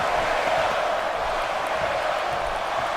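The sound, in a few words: crowd cheering in video game WWE 2K16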